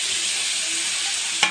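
Onions and tomatoes sizzle steadily in a frying pan while a spoon stirs them, with a brief louder scrape near the end and no talking.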